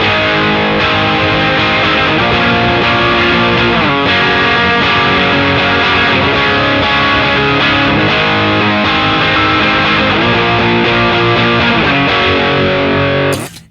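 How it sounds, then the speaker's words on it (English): Electric guitar played through a Dr. Z MAZ18 Jr amp with a boosted distortion pedal, loud, dense, high-gain distorted chords ringing continuously for the whole stretch before cutting off abruptly. "a lot of distortion, borderline like a high gain amp"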